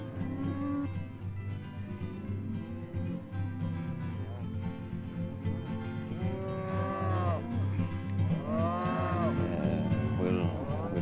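Cattle at a ranch branding low and moo repeatedly, with several long, loud bellows close by and other calls overlapping against a steady background rumble and no clear talk.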